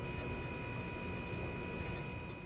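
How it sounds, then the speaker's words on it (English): Electric drive motor of a 2010-2015 Toyota Prius running as the car moves off: a faint, steady hum with a thin high whine held over soft broadband noise, constant throughout and with no voices. "This is the sound of the motor in operation."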